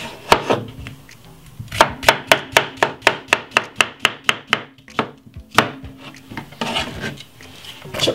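A knife chops cucumber on a cutting board for a fresh summer salad: a fast, even run of sharp, close taps, with looser scattered cuts before and after.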